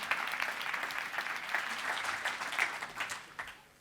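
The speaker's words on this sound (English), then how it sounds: "So a warm round of applause for them" Warm audience applause at an awards ceremony for a documentary film festival jury, sustained clapping from a crowd that thins and fades toward the end.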